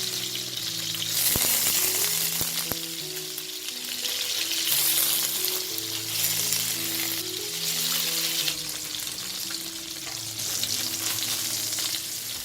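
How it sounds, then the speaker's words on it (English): Tofu triangles sizzle and crackle steadily in hot oil over a medium flame, a loud continuous frying hiss with faint low tones underneath. "When the oil heats up, add the tofu triangles and fry them lightly."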